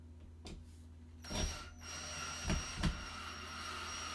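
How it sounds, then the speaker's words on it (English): A power drill drives long screws into heavy-duty 100-pound wall anchors. It gives a low motor whir with several short bursts as the screws bite, close by and with no talk. "Okay, you wanna drill them in."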